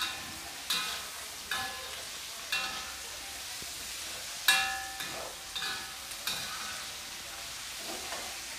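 Tomatoes sautéing in a hot pan under a steady sizzle, with a spatula scraping and clanking against the pan about every second or two; close by, with no talking.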